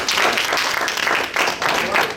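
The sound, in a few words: group applause in class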